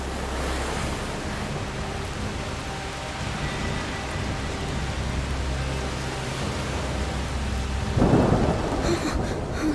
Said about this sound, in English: The rain is getting worse.